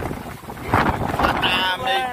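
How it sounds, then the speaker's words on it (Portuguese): Strong wind gusting over rough sea aboard a fishing boat, a steady broadband roar buffeting the microphone throughout, loud and close. "O mar tá meio grosso, o vento tá meio agitado."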